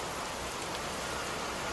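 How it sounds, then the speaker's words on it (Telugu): Heavy rain pours down in a dense, steady hiss of drops hitting surfaces, close and unbroken for the whole stretch with no voices. "అంత ఫుల్కి కొడుతుంది వాన"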